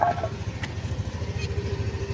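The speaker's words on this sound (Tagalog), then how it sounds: "may dadaang motor dito." A motorcycle engine chugs nearby in a rhythmic, low pulsing putter, moderately loud with a faint clatter.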